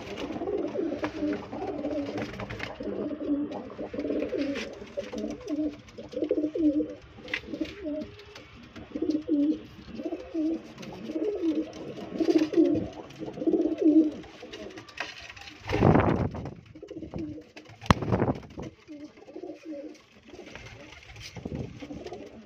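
Pigeons kept in a loft coo in soft, repeated throaty rolls, several birds overlapping close by, with a few wing flaps and shuffling noises toward the end.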